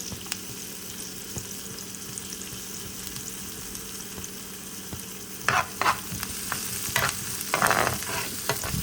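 Garlic sizzles steadily in a pan, then water spinach goes in with bursts of louder hissing and clattering stirring. The noise grows busier toward the end.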